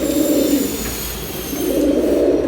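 Military pigeons cooing nearby in a loose pair of long, throaty rolling phrases with a short lull between them, over steady background hum and no talk.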